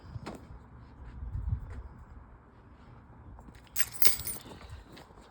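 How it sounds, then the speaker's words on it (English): Keys handled at a home security door lock: faint jingling and light metallic clinks in a quiet room, with a soft thump early on and a brighter burst of key rattling near the end. "Let me get the key"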